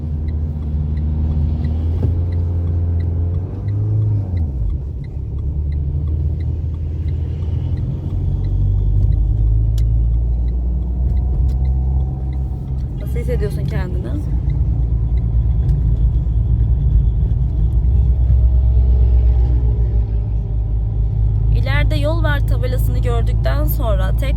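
A car engine rumbles steadily while driving on a driving-test route, with light throttle and low, continuous drone that swells slightly at times; a person talks over it throughout.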